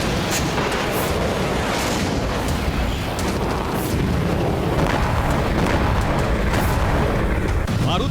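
Explosions from Israeli air strikes on Syrian cities at night, heard as a dense barrage of heavy booms and cracking bursts that pound continuously, loud and close, with a voice partly over them.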